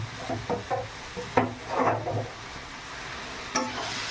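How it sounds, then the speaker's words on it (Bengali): Fried drumsticks and potato pieces go into sizzling masala for a vegetarian dish, a few clattering drops and scrapes of a spatula over a soft sizzle, short and close. "এবারে ভেজে রাখা সজনে ডাঁটা আর আলু এর মধ্যে দিয়ে দিলাম"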